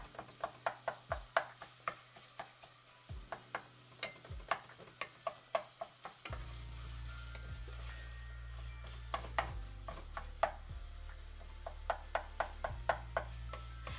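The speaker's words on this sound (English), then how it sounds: "It's going to be a bit more of a lower end bubbling sound." Sausage meat sizzling in a pan, with a quick run of rhythmic taps from stirring, then a lower, steadier bubbling with more taps near the end.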